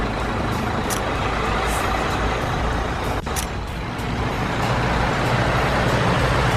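A large haul truck, the biggest high-payload dump truck, rumbles with a steady loud engine drone and a brief sharp hiss partway through.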